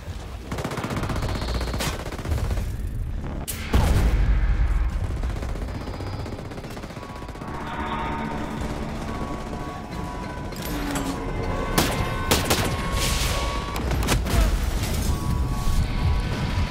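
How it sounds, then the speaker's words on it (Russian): Continuous heavy gunfire from the video game Ghost Recon Breakpoint, with long automatic machine-gun bursts and scattered explosive booms layered throughout, dense and loud. "второй выстрел у пулеметчика пошел"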